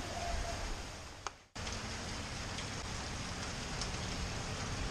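Steady rain falls outdoors as heard from a porch, a continuous even hiss of drops with a brief dip partway through, no talking.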